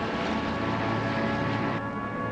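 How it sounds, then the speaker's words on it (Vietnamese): Reconnaissance aircraft over Dien Bien Phu in 1953 produce a loud, continuous engine drone with a steady propeller roar throughout and no break. "bầu trời Điện Biên Phủ bị khuấy động bởi âm thanh của những chiếc máy bay trinh sát"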